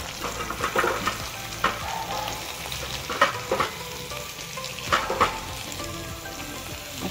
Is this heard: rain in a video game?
no